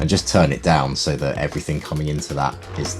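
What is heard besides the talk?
No everyday noise stands out behind the speech.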